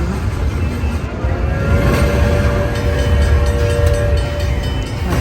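A slot machine plays its train sound effect, a loud steady rolling rumble of rail wagons with a sustained horn-like tone running through the middle.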